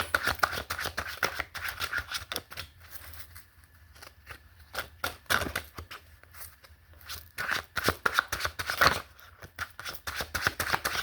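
Tarot cards are shuffled close by in quick rapid bursts of crisp riffling and flicking, broken by brief pauses, with no voices over them.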